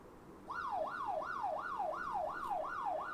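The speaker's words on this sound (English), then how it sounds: "So siren will play as you seen in this video" A phone's anti-theft alarm siren wails, rising and falling in quick repeated sweeps, starting abruptly and looping steadily at moderate volume.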